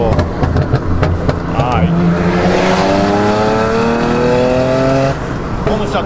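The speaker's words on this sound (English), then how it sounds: "Dude, the burble on the bridges sound good, man." A BMW 335i with a custom MHD tune revs and burbles through its exhaust, loud and close, with a rising engine note and crackling pops, while people talk over it.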